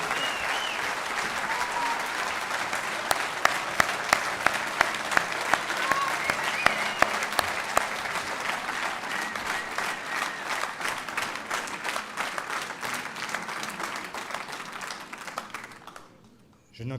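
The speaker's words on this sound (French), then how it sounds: "je vais vous demander, sous les mêmes tonnerres d'applaudissements, d'accueillir mon collègue et ami Olivier Faure," A large political rally audience applauds to welcome Olivier Faure, a sustained roar of clapping with rhythmic claps emerging midway before the applause fades out near the end.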